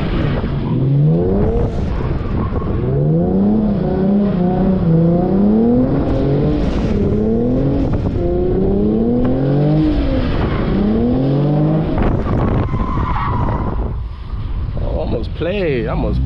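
Lexus RC 350 drifting in the rain, engine note climbing and falling in repeated sweeps with wind buffeting the microphone and a steady wash of road noise throughout; a driver talks at times.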